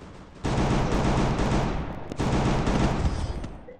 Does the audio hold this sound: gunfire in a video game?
yes